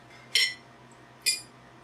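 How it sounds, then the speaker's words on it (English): Two bright metallic clinks of a fork and knife against a plate while eating an open-faced stew burger, about a second apart, crisp and close in a quiet room. "We'll try it with a fork and knife."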